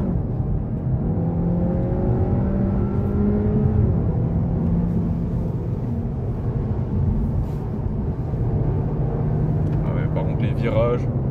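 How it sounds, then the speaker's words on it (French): Interior drone of a Peugeot 308 GT accelerating from 0 to 80, with a steady engine and road hum and rising whine tones. Someone talks over it throughout. "Regarde-moi ça, petite accélération 0 à 80."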